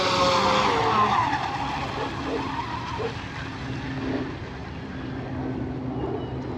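A J&R Marine H17 RC hydroplane boat running on water, its small motor buzzing loudly at first and then fading to a lower, steady drone as it moves away.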